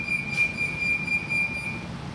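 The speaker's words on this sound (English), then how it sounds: "Historic Folsom-bound train." A Sacramento light rail train bound for Folsom rumbles steadily close by at a station, a low continuous rolling drone with a faint high whine above, no talking.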